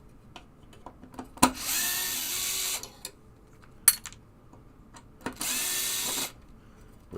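Screws being driven out of a Williams Travel Time pinball playfield with a power driver, two separate bursts of high whirring of about a second each, amid clicks and handling knocks.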